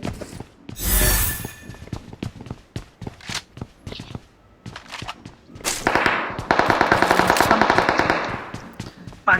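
Rapid bursts of automatic gunfire from a mobile battle-royale shooter game, loud and close, with scattered single shots and a long sustained volley near the end, interleaved with footsteps and action sounds.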